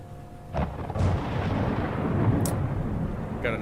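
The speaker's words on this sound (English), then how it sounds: "Got a nice little thunderstorm going on here." Thunderstorm in a video game: a deep rolling thunder rumble swells and lingers over steady rain-like noise, with a couple of sharp cracks near the start and end.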